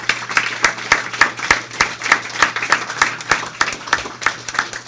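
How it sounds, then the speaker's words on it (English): Audience applause at a Spanish Latino heritage event, sparse and uneven with individual claps distinctly audible in a loose rhythm, fairly close and moderately loud. "let's give a round of applause"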